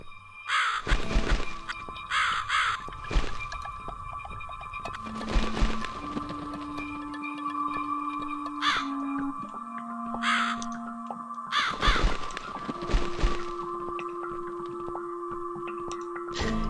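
Crow in The Cat Lady video game giving repeated harsh caws over a tense, droning musical score, with sustained low tones and sparse game sounds filling the gaps.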